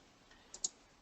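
Two quick, faint mouse clicks sound close together at a computer, sharp and tiny against near silence.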